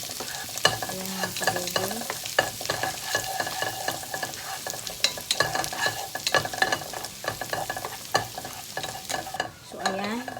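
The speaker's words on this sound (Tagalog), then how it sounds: "Isa-gisa lang po natin siya hanggang sa bumango." Butter chicken ingredients sauté in a pan with steady frying sizzle and repeated stirring scrapes, close and moderately loud, while a person speaks briefly near the end.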